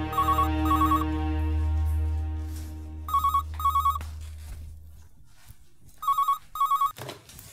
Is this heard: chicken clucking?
no